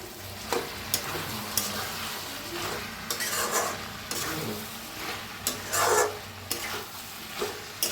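Cauliflower and potato curry stirred in a hot pan, a spoon scraping and clacking against the pan over a steady low sizzle, with repeated close strokes throughout.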